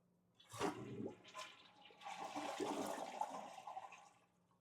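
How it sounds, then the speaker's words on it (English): A toilet tank empties with a sudden rush of water as the flapper valve is held open, then gurgles and drains noisily for a few seconds before tapering off. "we're going to let as much water as possible drain out."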